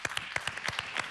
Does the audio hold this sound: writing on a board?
no